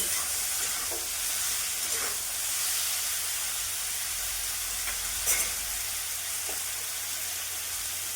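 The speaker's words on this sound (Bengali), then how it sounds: "সবজিগুলো হাত সিদ্ধ হয়ে গেছে আর ভাজাও হয়ে গেছে" A steady sizzle of vegetables frying in a pan, with occasional soft scrapes and clicks of stirring, no voices.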